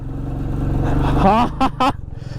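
A Royal Enfield Meteor 350 Supernova carrying two heavy riders off-road in first gear: a steady low, thumping engine drone up close, with someone talking over it near the end.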